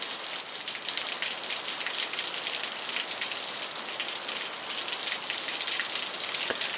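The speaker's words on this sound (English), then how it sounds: "after it stops raining" Steady, dense rain pours down without a break, a constant loud hiss of drops hitting a hard surface close by, water pouring into a clogged garage drain.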